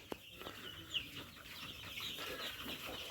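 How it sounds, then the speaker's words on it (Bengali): Chickens on a poultry farm feed from rows of food containers, their soft clucks and occasional chirps faint and distant over a steady background hum, no voices. "চঞ্চলতার সাথে মুরগিগুলো খাওয়া দাওয়া করতেছে"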